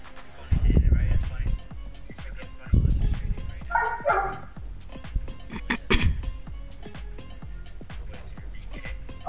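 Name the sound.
dog barking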